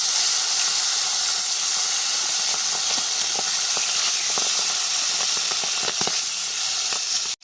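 Salted, turmeric-rubbed tilapia pieces fry in hot mustard oil in a kadai, giving a steady, loud sizzling hiss with scattered crackles and pops throughout.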